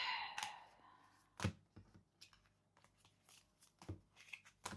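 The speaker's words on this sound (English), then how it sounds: "Let's now shuffle your deck." A tarot card deck is shuffled in a few sharp, separate bursts of card riffling and tapping, close and fairly quiet, with no talking.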